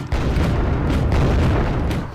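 Artillery barrage in the video game Wargame Airland Battle, a dense continuous rumble of overlapping booms and blasts, loud and sustained with a few sharper bursts standing out.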